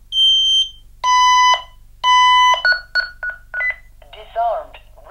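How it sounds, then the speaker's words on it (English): A loud Honeywell L5200 security panel sounds a fire alarm, triggered by a 5806W3 smoke detector, as a series of electronic beeps and tones in bursts, followed by shorter chirps, close to the listener, with a low hum underneath. "That sets off the alarm."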